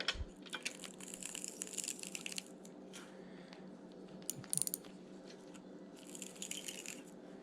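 Steady mechanical clicking of a loosened drag on a budget Chinese-made spinning reel spool, a fast continuous ratchet chatter running through the whole stretch, fairly close and even in level with brief louder bursts.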